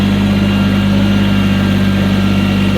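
A tractor engine runs steadily while moving dirt with a small front bucket, a loud, close, continuous low rumble and drone with no pauses and no talk.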